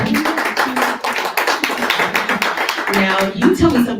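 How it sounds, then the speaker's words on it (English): An audience at a live talk event claps steadily for a woman guest, a dense patter of hands that runs the full length and sits under a voice. "Let's clap for her."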